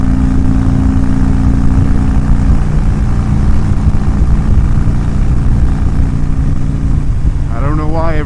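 A car cruising along a road at 60 mph, with a loud, steady rumble of engine and tyre noise filling the whole stretch without letup.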